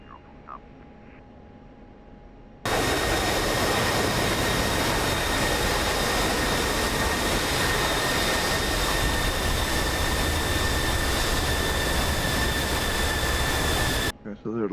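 F-16C jet engine roar in a flight simulator game while landing on runway 10, a loud steady rushing drone that starts abruptly after a quiet opening and cuts off near the end.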